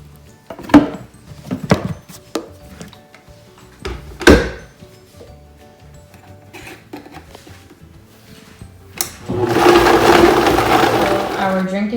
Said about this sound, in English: So we're gonna blend this all up now.